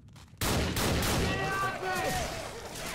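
Loud, sustained gunfire from the video game Left 4 Dead 2 erupts after a brief quiet start, continuing in dense rapid bursts over game noise with voices mixed in.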